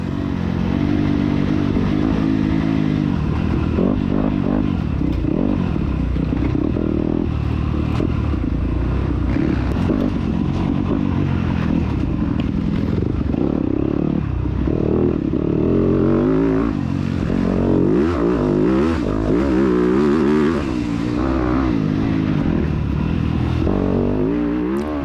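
Motorcycle racing through a cross-country course, engine revving and clattering loudly and continuously up close, rising and falling with throttle changes throughout.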